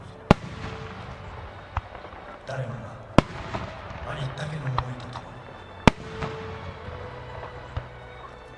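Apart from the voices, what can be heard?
fireworks exploding at the Aizu fireworks festival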